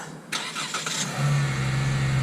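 A Chrysler 300 S AWD V6 sedan starts by remote start: a short cranking burst, then the engine catches and settles into a steady, fairly loud idle hum, heard close and without talk.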